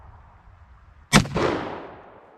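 A single .44 Magnum gunshot fired outdoors at a small frozen melon: one sharp, loud crack followed by a long rolling echo that fades over about a second.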